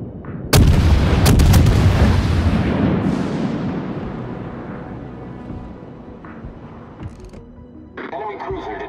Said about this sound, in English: Anti-aircraft fire support.